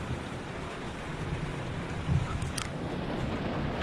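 Rain falls steadily outside a fiberglass RV at night, a dense muffled patter heard from inside, with a low rumble of thunder rolling through partway and no voices.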